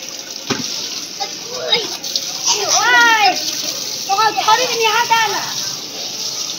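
Schoolchildren bathing under a running water tap on a hot day, splashing water mixed with excited children's voices and squeals, close and lively.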